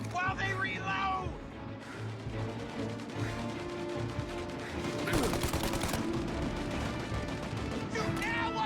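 Gunfire shootout in the video game Mafia, scattered shots and a burst of loud cracks midway over steady background noise, with voices talking throughout.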